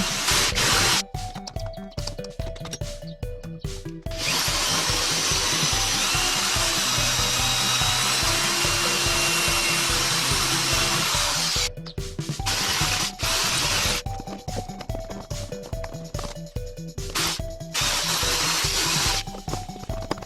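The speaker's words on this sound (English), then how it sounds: "it took me a few hours with this 5mm drill bit" A power drill with a 5mm bit whines and grinds into a Corolla transmission part, running steadily for long stretches with short pauses and stop-start bursts, loud and close.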